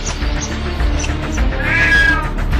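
A cat lets out a drawn, rising meowing yowl while attacking a squirrel on top of a small birdhouse, heard over a dense, steady background rumble.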